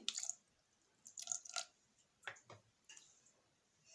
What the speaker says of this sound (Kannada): ಅದೇ ಬೌಲಿಂದ ಸ್ವಲ್ಪ ನೀರು ಹಾಕಿ ಹಾಕ್ತಾಯಿದ್ದೀನಿ